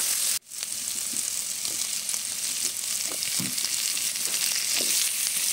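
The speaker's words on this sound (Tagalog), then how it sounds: "Yan, haluin lang natin siya." String beans frying with shrimp paste, a continuous loud sizzle close up with a brief dropout near the start and intermittent soft scraping stirs, no voices.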